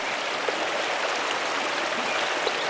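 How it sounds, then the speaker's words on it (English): A waterfall fed by mountain snowmelt near an abbey in the video game Pentiment pours steadily, a constant close rushing hiss of water with no voices. "The waterfall must flow down from the snow melt in the mountains above the abbey."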